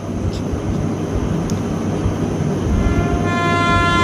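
Train pulling out of a station on a Shantipur local line, a steady loud rumble of rolling carriages building slightly, with a faint high horn-like tone appearing near the end.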